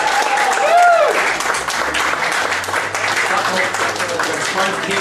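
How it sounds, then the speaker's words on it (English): An audience applauds during a magic show's sponge ball routine, with continuous clapping from a crowd. A voice speaks briefly over the start of the applause. "Give her a big round of applause."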